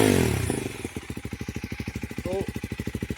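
A KTM Duke 390 fitted with an Akrapovic replica exhaust starts loud from a rev, then settles into a fast, even train of throbbing exhaust pulses that stays close and strong, with a brief swell near the end.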